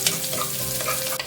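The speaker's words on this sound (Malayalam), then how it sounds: "ഇത് ഗോൾഡൻ ബ്രൗൺ കളർ ആവുന്നത് വരെ നമുക്കൊന്ന് വറുത്തെടുക്കാം." Pieces of coconut fry in hot oil in a pan, giving a steady, close sizzle with light stirring.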